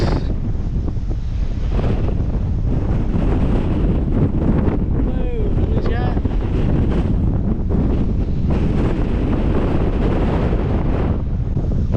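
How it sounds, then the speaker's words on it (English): Strong wind roars continuously across the microphone on an exposed headland in Australia, loud and unbroken throughout, with faint voices buried beneath the gusting. "it is extremely windy up here"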